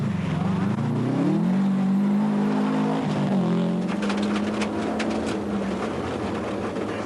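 A Class N4 Subaru Impreza WRX rally car running a 32mm restrictor drones loudly through a special stage, its engine note rising and holding steady with brief shifts, and no talk over it.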